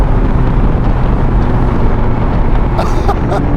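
A McLaren 720S fitted with a Novitec exhaust pulls hard in fourth gear, a loud, steady engine roar mixed with heavy wind buffeting throughout.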